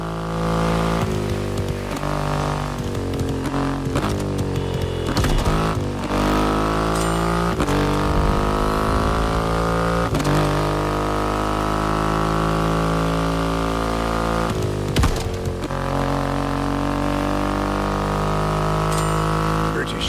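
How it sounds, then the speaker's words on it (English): A Triumph motorcycle with a 2.5-liter engine revs in the racing game The Crew Motorfest. The tone is loud and sustained, with rising and falling pitch sweeps as it accelerates and shifts. "An extreme motorcycle with a huge presence. Triumph bike through and through."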